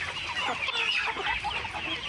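Chickens cluck in a busy, continuous flock on a village poultry farm, the overlapping calls fairly close and steady throughout with no voices.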